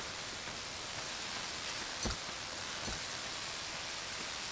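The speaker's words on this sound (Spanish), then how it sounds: "¿O es porque está lloviendo?" Steady broadband rain falls in the video game ARK Genesis, a constant hiss of drops throughout with two brief soft knocks partway through.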